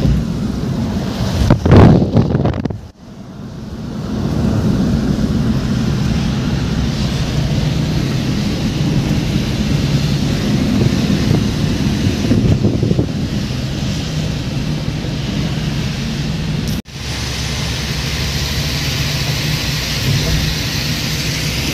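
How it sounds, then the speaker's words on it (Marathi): A vehicle drives across the Mumbai sea link bridge over the sea, with strong, steady wind buffeting and road rumble filling the whole stretch, broken by a couple of brief dropouts. "आम्ही आत्ता चाललो सीलिंगवरून समुद्राच्या वरती जो रोड बनवलेला आहे,"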